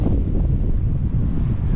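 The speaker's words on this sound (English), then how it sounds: "These fierce winds are blowing the water" Fierce wind blows across a temporary lake in Death Valley, a loud, constant low roar buffeting the microphone, with water pushed along beneath it and no one speaking.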